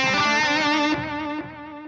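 A sustained, distorted tone rings out through a traditional delay effect with ping pong turned off, its repeats stepping down in level as the note decays, loud and with no voices.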